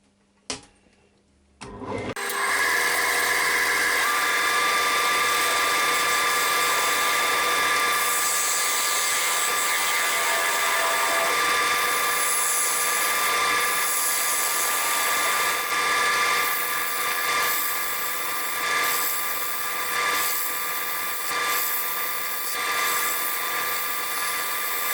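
A woodturning lathe spins up after a brief click, then runs at a steady high whine as a tool hollows a sycamore platter, with gritty scraping cuts layered over the hum throughout.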